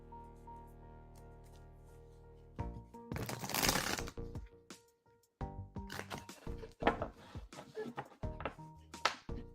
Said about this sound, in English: Let's shuffle for her now.